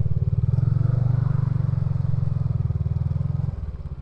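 A motorbike engine idles and revs close by on the Sam Sand Dunes near Jaisalmer, a low, throbbing, rapid pulse that runs steadily before easing slightly near the end, with no voices.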